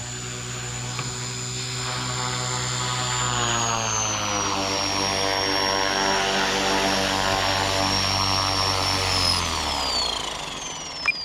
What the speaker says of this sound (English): it's a great flying little helicopter